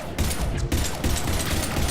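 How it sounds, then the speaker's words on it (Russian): Rapid bursts of sustained automatic gunfire from a Mass Effect 3 firefight roar loudly and continuously, with brief gaps between volleys across the two seconds. "я как-то не так стреляю"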